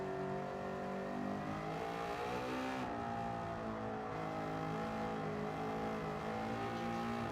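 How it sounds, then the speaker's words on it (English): A racing car engine in the video game Gran Turismo 7 revs hard and continuously, its pitch climbing and easing through gear changes, loud and close with no other sounds. "The engine's so loud."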